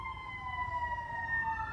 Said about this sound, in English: or the siren